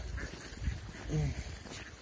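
Ducks quack softly while feeding, amid outdoor background noise near hydrogen sulfide springs in winter, a few short calls rising briefly over a muddy, rumbling ambience.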